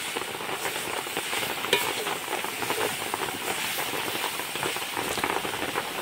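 Fried coconut and sugar being stirred in a pan, a steady, close sizzle and scrape that runs without a break under a dense, rain-like hiss.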